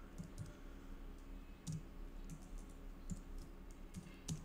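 Keys clatter on a computer keyboard as code is typed, light irregular clicks and taps coming in short bursts, close and fairly quiet over a faint steady hum, with no voice.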